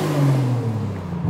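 A modified Audi RS4 accelerating gently in first gear, a loud close engine drone rising and holding for a brief moment with no talking.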